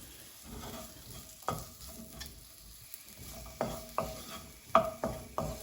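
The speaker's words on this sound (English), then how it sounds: "I'll have to keep giving it a good mix. If I don't keep mixing, then the vegetables will burn." Vegetables stir-fried in a pan during a Chinese cooking demonstration, with a soft steady sizzle and repeated sharp scrapes and knocks of a utensil against the pan as they are mixed constantly, fairly close, with no talk.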